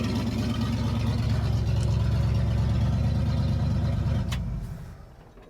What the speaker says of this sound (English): So, we got a running engine.